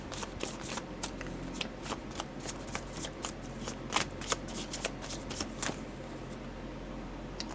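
Tarot cards shuffled by hand to draw a clarifier card, giving repeated close, crisp riffling and slapping bursts at a fairly steady rhythm, with no talking.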